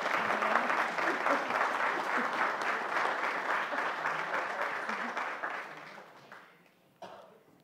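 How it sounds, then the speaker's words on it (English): An audience applauds to welcome a panel, including a Lutheran pastor, with a full, steady clatter of many hands that thins and fades out near the end, a scattered clap or cough trailing after. "So please welcome them with a round of applause."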